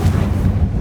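A Confringo blasting spell in Hogwarts Legacy erupts as a short, deep, rumbling explosion, loud and heavy in the low end for under a second.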